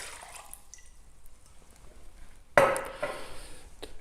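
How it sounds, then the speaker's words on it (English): Water for pizza dough is poured into a bowl with the yeast, a brief loud splash and trickle arriving near the end after quiet faint kitchen clinks. "add a little bit of water to the yeast and the remaining water"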